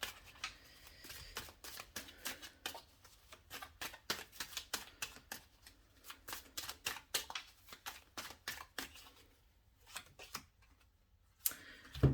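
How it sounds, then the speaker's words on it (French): Tarot cards being shuffled up close: a long, steady run of crisp, dry snaps and riffles at a quick, even rhythm, ending with a couple of sharper knocks. No one speaks. "Je vais bien battre les cartes"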